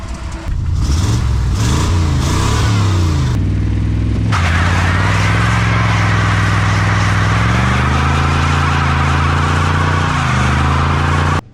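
A 2004 Honda Civic fitted with a 454 big-block Chevy engine roars through a burnout, loud and close, the deep engine note holding high and wavering steadily with tire noise after a few quick blips at the start.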